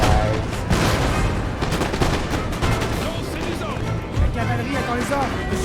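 Cannons firing in Napoleon: Total War, with repeated booms and crashing artillery blasts layered over continuous battle noise, while a voice talks throughout.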